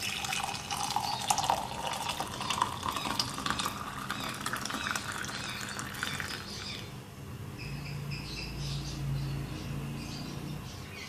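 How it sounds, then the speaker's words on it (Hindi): Almond milk poured into a serving glass in a home kitchen, a steady close liquid stream for several seconds that then changes to a lighter trickle near the end, with no talking. "सर्विंग ग्लास में डालेंगे दूध को"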